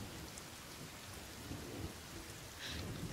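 Steady rain and rumbling thunder fill a stormy forest in the survival video game The Forest, a dense continuous downpour with low rolls of thunder swelling midway, heard alone without talk.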